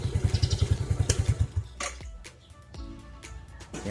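A motorcycle fitted with a dual-battery setup idles with a close, steady pulsing throb, then is switched off at about one and a half seconds, leaving a few light clicks and rattles in the quiet.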